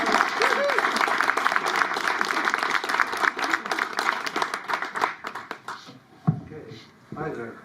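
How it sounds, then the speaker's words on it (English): Audience applause for speaker Adam Chin at an AI and Art presentation at the Commonwealth Club, a dense, steady round of clapping that thins out and fades near the end. "A round of applause for my guy"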